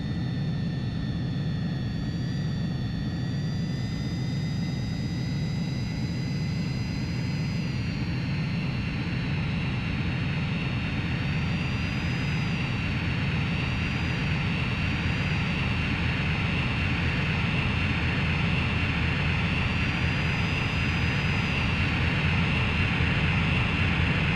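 Jet aircraft engines in the Ace Combat 3 game during aerial refueling, a steady loud roar with a high whine, continuous and unbroken throughout with no talking.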